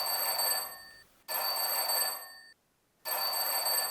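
A telephone rings in two long electronic bursts separated by a short silence, loud and close with clear bright tones, heard alone with no voices.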